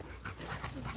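Dog panting close by in quick, steady breaths, with no talking over it, at a farm where dogs are fed from a processed whole cow.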